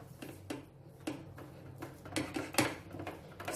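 Prasadam dough mixture stirred in a pot with a ladle: soft scraping and occasional light clinks of utensil against metal, fairly quiet and irregular, with no talk.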